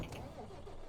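An Iveco truck engine idles steadily in Euro Truck Simulator, a low continuous rumble that holds at an even level throughout with no revving.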